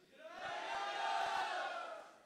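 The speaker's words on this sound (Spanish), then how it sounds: "Otra vez, un grito de júbilo para el Señor." Church congregation lets out a joyful shout to the Lord at a ministry anniversary service, a collective roar that swells up, holds for about a second and fades, with a few claps beneath it.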